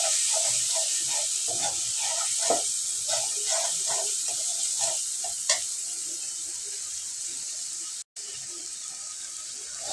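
A cumin and coriander spice paste fries in a pan with a bright, continuous sizzle, broken by repeated scraping stir strokes and a short gap near the end.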